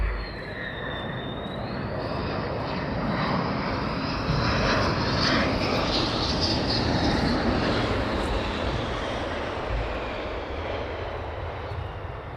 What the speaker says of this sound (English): we might have a couple of F-35s inbound